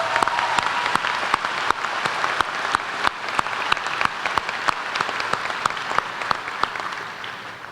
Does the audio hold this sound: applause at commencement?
yes